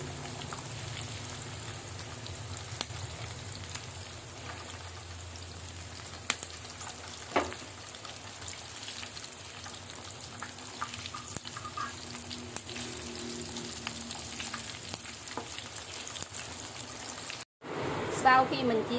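Pork sizzles and spatters in hot oil in a pan, a steady frying crackle with scattered pops. Someone talks over it indoors while rain falls outside. The sound cuts out briefly near the end.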